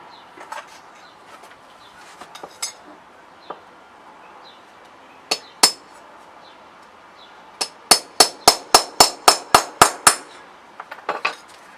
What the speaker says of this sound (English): So give me 10 seconds and I'll hammer this thing flat.